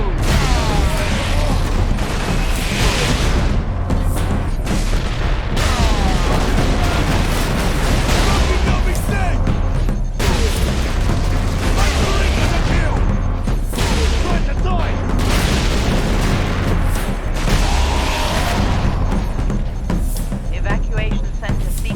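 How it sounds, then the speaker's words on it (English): In the Warhammer game Space Marine, Ork rocket launchers fire from high ground amid a loud, continuous barrage of booming explosions and gunfire, with heavy low rumble and voices talking through the chaos. "Orc rocket launchers on the high ground."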